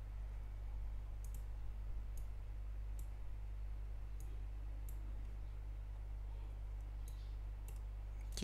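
Computer mouse clicks while working in SketchUp, about a dozen sharp isolated clicks spaced irregularly over a steady low electrical hum, no speech.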